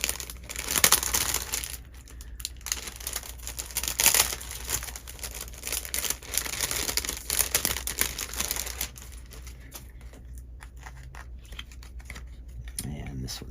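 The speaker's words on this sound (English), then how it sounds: "I forgot to unwrap a couple of these, so it's taking me a little longer." Wrapped handmade cards are being unwrapped, giving steady crinkling and rustling of the wrapping with occasional snipping and tearing. A person talks throughout.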